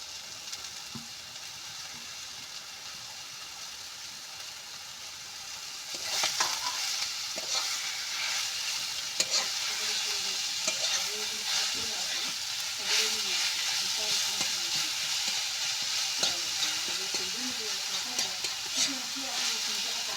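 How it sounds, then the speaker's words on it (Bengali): Sliced mushrooms go into a pan of deep-fried onions and sizzle steadily, with scraping stirs that grow busier midway. A voice talks faintly under the frying. "আমার পেঁয়াজটা বেরেস্তার মতো ভাজা হয়ে গেছে। এবার আমি মাশরুমটা দিয়ে দেবো।"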